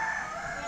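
A native rooster crows, heard as a short, fairly faint fragment of a harmonic call with no other sounds around it.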